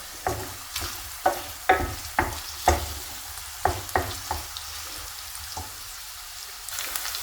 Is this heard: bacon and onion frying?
yes